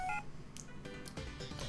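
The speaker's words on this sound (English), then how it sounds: "And my phone is ringing." Short electronic beeps from a phone ringing in the game Pokémon Black sit over steady background music, repeating in quick bursts, with no voices.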